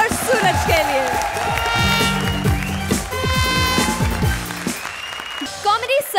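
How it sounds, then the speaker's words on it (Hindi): A studio audience on the TV comedy competition Comedy Circus applauds loudly and cheers, mixed with upbeat show music and tonal vocal sounds throughout, dense and close. "लेडीज एंड जेंटलमैन, जोरदार तालियां"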